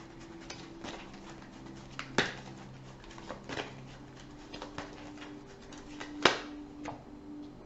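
Fortune-telling cards are drawn and handled on a table, quiet papery shuffles and soft slaps with a few sharper snaps at irregular intervals, close by and without talk.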